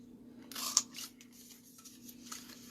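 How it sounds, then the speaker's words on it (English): Paper punch punching a card scrap, a faint, short snap with a crisp click, followed by light rustling of paper over a low background hum. "I'm going to punch the other one for the next card while I'm here"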